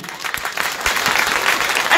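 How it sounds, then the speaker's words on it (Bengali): A crowd at an outdoor Trinamool Congress election rally in Sandeshkhali breaks into loud clapping that swells and holds steady, with a voice faintly audible over it. "আমাদের তৃণমূল কর্মীদের জন্য আপনারা আগে একটা জোরে করতালি দিন"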